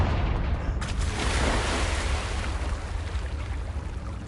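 Confringo fire spell blast in Hogwarts Legacy: a sudden loud, rumbling burst near the start that swells into a sustained roaring, crackling wash of noise, heavy low boom fading slowly over several seconds.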